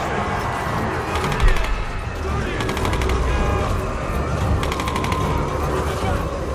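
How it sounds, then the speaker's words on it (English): Bursts of automatic gunfire crackle in the 2013 Tomb Raider game, rapid volleys repeating several times over a dense, noisy battle backdrop with a talking voice. "Who's shooting?"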